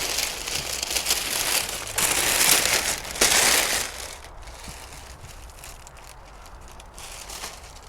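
Crumpled paper and cardboard packing filler from a parcel of plants bought online rustles and crunches loudly in close bursts for a few seconds, then fades to softer, scattered crinkling.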